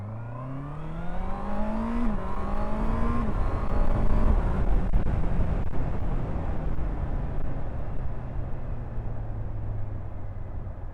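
A 2024 Honda CBR650R E-Clutch motorcycle pulls away and accelerates hard through a couple of rising gear changes, its engine whine climbing and dropping before settling into steady road and wind roar as it cruises.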